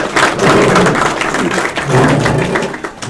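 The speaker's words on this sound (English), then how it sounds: "Another round of applause for Jennifer for putting up with it for the last 3 months." Audience applause for Jennifer at the 2023 StLDTR dirt track racing Hall of Fame ceremony: a dense, steady wash of clapping from a crowd, loud and sustained throughout before tapering slightly at the end.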